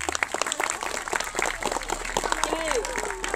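An audience at a speech event claps in a steady patter of applause, close and moderately loud, with voices talking over the clapping throughout.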